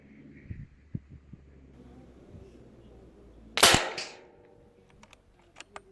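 A single sharp air rifle shot fired at a target, a loud crisp crack with a brief tail, preceded by a few soft handling knocks and followed by faint clicks.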